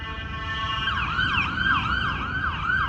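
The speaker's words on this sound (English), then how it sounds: "I'm just waiting for the sirens to go by" A small emergency car passes close by with its siren wailing, first a steady high tone and then a rapid rising and falling warble that stays loud throughout, with faint road traffic underneath.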